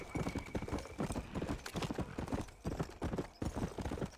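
Horse hooves clip-clop steadily in the video game Red Dead Redemption: Undead Nightmare as a horse travels at a quick even pace. The rhythmic beats are close and fairly quiet.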